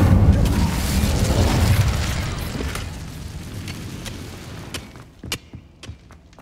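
Incendio, a fire spell in Hogwarts Legacy, goes off with a deep, loud whooshing burst that rumbles and fades over a few seconds, followed by a few sharp, fainter clicks and pops.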